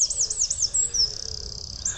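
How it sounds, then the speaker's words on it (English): Birds chirp in the morning outdoors, a quick run of high, warbling tweets and trills near the start, then a steadier, thinner call, with no voices. "The birds are chirping away."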